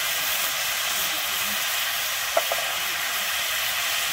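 Steady frying sizzle from a pan of malabar spinach seed mixture with salt and turmeric being stirred in, continuous and close, with a couple of faint spoon clinks partway through.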